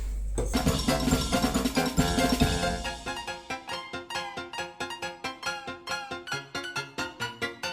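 A Mercer X50CrMoV15 steel vegetable knife grinds across a 2000-grit aluminium oxide stone, first in a dense rasp, then in a steady series of rhythmic scraping strokes, close and clear with no talking.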